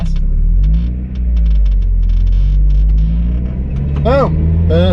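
A manual-transmission Mazda Miata pulls away from a stop, its engine droning loud and close with a low steady rumble that rises in pitch as it accelerates. Voices are heard over the engine.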